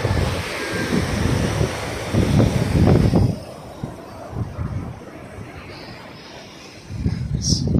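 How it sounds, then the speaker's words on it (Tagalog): Big sea waves still rolling in after a typhoon on a littered shore at Naic, Cavite, heard as loud rumbling surf surges mixed with heavy wind buffeting the microphone, easing midway and building again. "Malaki pa alon."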